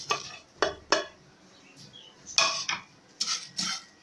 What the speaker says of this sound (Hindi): इन तमाम मसालों को हम ड्राई रोस्ट कर लेते हैं।